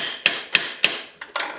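Tapping with a hammer on a water pump on a 2007-2013 Acura MDX engine to break its seal, five sharp metallic knocks, three evenly spaced then two quicker ones, close and loud.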